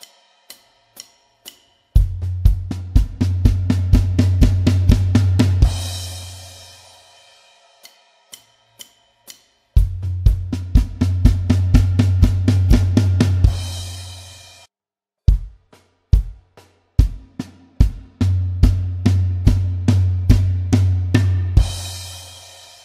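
A song's intro fill is played on a drum kit across floor tom, snare and bass drum, building into rapid strokes and ending with crash cymbals. It repeats three times, close and loud, with short sparse hits between the runs and no voices.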